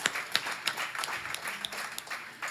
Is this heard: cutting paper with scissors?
no